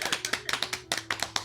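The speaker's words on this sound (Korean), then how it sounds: "박수." A handful of scattered hand claps from a small audience at a panel talk in a citizen-funded private theatre, sparse, fairly close, lasting only about a second and a half over a low steady hum.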